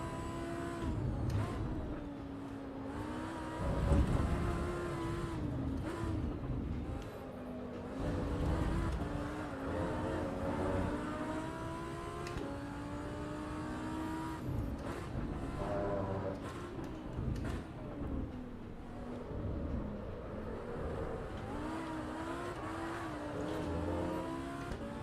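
A race car engine in Assetto Corsa Evo, driven hard out of hairpin corners, revs and climbs through gears with rising and falling pitch, loud and close, with occasional tyre squeal.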